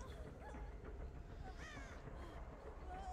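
Crows cawing inside the horror video game Dead by Daylight, several harsh caws scattered over a dense, steady game ambience with a low rumble underneath.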